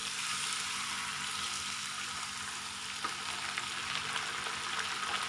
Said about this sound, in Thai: กระหล่ำปีที่เราล้างสะอาดดีแล้วนะคะ ใส่ลงไปนะคะ